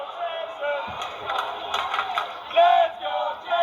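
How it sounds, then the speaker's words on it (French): A crowd at a Lutte Laurentides wrestling match cheers wildly, a mass of voices roaring in the background while someone talks over it, with a dull thud near the start. "La foule est en délire."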